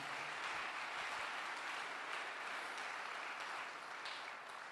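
A church congregation applauding at a Sunday worship service, a steady dense wash of clapping that holds for the whole stretch without a break.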